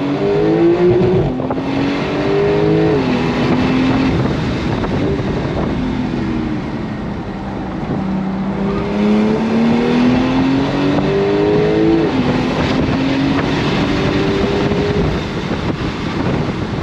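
A sports car accelerates hard on throttle after a U-turn, its engine note climbing through repeated rising gear sweeps with shifts, loud and close over steady wind and road noise, no talking.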